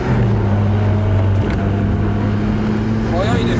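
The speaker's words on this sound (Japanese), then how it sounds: "今前に走ってる赤のセブン2台が" Engine drone from red Mazda RX-7 FC3S cars on the Otarumi mountain pass, a steady loud tone with a pitch that shifts and climbs near the end, heard amid outdoor wind noise.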